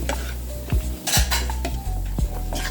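Utensils clatter and scrape against a bowl as Thai salad ingredients with cilantro and orange are tossed together, a few sharp knocks and clinks in close, quiet kitchen surroundings.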